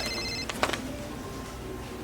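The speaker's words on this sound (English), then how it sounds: "Your phone is ringing." A telephone rings with a brief electronic ringtone of a few bright tonal pulses, moderately quiet over steady room noise.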